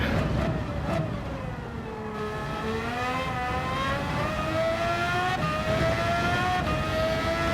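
Race car engine in a racing video game held at full throttle, a loud steady whine climbing gradually in pitch through the gears, continuous from start to finish with no talk.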